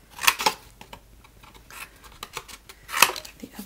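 Scissors snip through card for a monochrome wedding card, two quick crisp cuts at the start, then softer rustling, and another sharp snip near the end, all close up.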